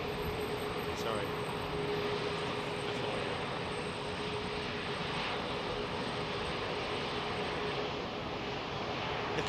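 Airbus airliner at Heathrow Airport ahead of Storm Ciarán, its engines a steady broadband roar holding at an even level throughout, with a faint tonal whine above.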